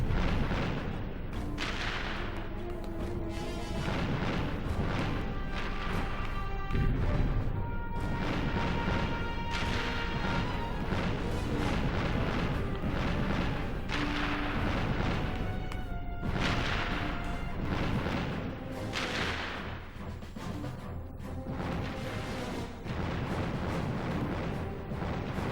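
Missile launcher fire and repeated explosions from the Ratchet and Clank video game, a dense, continuous barrage of booms and blasts layered over game music for the whole stretch, loud and near, with no talking.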